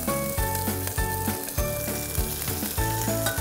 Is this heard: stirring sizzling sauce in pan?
yes